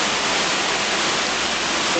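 Heavy rain pours steadily in Sydney, a dense, even broadband hiss of water that holds at a constant loud level from start to finish, with no voices over it.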